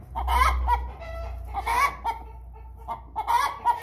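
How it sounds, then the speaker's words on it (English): Chickens cluck in a barn in several close, loud bursts with short pauses between, their calls overlapping in an excited, uneven rhythm over a low background hum. "I don't know if I'm going to be able to talk over these birds."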